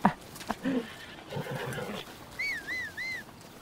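A horse in Zelda: Breath of the Wild, with scattered thuds and hoof-like knocks followed by a clear, warbling whinny repeated in three quick rising-and-falling calls, over low background sound.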